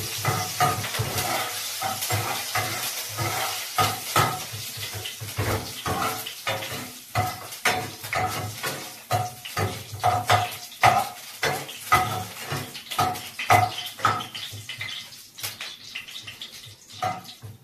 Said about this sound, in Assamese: তেলখিনি গৰম হোৱাৰ লগে লগে ইয়াতে শুকান জলকীয়া দুটা দি দিলোঁ।